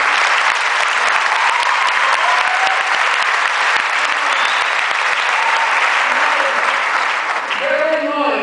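Lecture audience at AUC breaking into loud, sustained applause, a dense wash of clapping from many hands that stays steady for several seconds before thinning out at the end.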